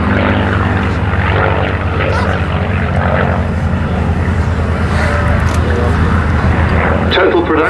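A North American P-51 Mustang, built by North American Aviation at Inglewood, flies at an RAF Cosford airshow, its piston aircraft engine a steady loud drone throughout, with crowd and commentary voices under it.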